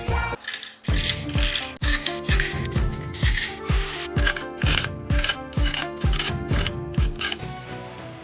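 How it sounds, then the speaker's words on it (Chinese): A ratchet wrench tightening screws while an Audi EA837 engine is reassembled during an overhaul, loud close rapid clicking in a long series of bursts, steady and rhythmic, with no talking. "所有螺丝按照原厂扭矩锁紧。"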